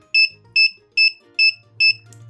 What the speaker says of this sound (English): So this can be used as a push to signal an alarm